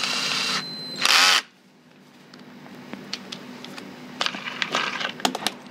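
NRT PRO 340 cordless battery drill fitted with a grinder attachment whirs in two short, loud high-pitched bursts near the start, followed by quiet clicks and handling knocks.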